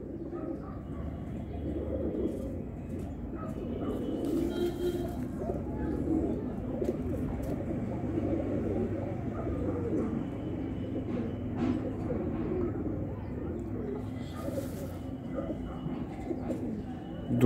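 A red Cheena pigeon held in the hand gives soft, low cooing that runs steadily under outdoor background noise, fairly faint and continuous throughout.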